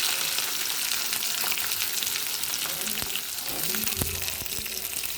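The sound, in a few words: ginger and garlic frying in a pan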